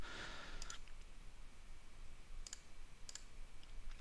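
A few sharp, quiet computer mouse clicks, one early and a pair later, tapped close by in a quiet room with a faint background hiss and no speech.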